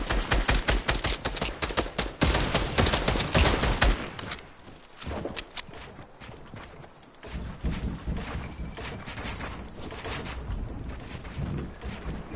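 Dense, loud gunfire in a PS4 video game, with continuous rapid shots and bursts that thin out briefly before picking up again and continuing steadily.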